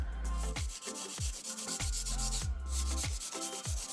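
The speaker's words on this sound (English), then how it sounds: "what I'm going to do now is buff over the top of the nails" Nail buffer rubbed back and forth over top-coated nails during a butterfly foil nail design, a steady close scratchy rubbing with regular strokes roughly every half second and no talking.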